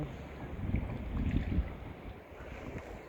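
Gusty wind buffeting the microphone while kayaking on the Saint Lawrence River in Quebec, in low rumbling bursts, moderately loud, with faint water sounds underneath and no talking.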